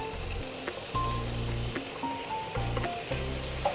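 Chopped tomatoes added to a pan with green chillies sauté in hot oil, giving a loud, steady, close sizzle throughout. Low background tones sit underneath and no one speaks.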